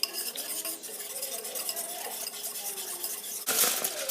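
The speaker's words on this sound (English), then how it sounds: "We'll go ahead and whisk up our jam and barbecue sauce mixture." Whisking a jam and barbecue sauce mixture in a bowl for pork loin back ribs, a steady scraping, stirring rattle up close, with a brief louder clatter near the end.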